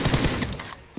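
A rapid burst of pistol gunfire in PUBG Mobile cracks out loud and close, then cuts off abruptly.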